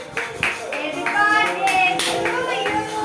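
At a home birthday celebration, a short burst of hand clapping comes from a few people, mixed with voices and children chattering close by.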